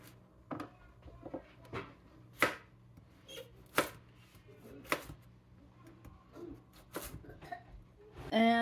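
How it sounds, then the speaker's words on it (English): A knife chops carrots on a cutting board, giving a string of sharp, separate taps at an uneven pace. The chopping is close and fairly quiet, and a little rustling and handling noise fills the gaps. "we're gonna cut up some carrots too"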